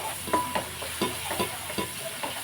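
Sliced onions fry to a golden colour in a hot pan for a murrel fish curry, with a spatula scraping and stirring in a steady rhythm over a continuous close sizzle.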